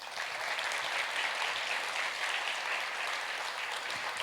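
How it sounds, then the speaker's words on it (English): A jazz concert audience gives steady applause for a drummer, an even, continuous patter of many hands at moderate volume with no individual claps standing out and no talking. "How about a round of applause for the great Carl Allen at the drums."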